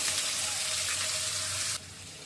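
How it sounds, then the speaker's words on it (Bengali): Onion fries in hot oil in a wok with a loud, dense, hissing sizzle up close that drops suddenly in level near the end, with no speech. "প্রথমে আমি পেঁয়াজটা দিয়ে দিচ্ছি। পেঁয়াজটা একটু লালচে করে ভাজা হোক।"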